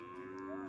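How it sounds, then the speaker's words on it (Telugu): A single cow at a busy cattle market gives a low, sustained moo, heard close and fairly clear for under a second. "ఇక్కడ ఇది ఒక ఆవు ఉంది"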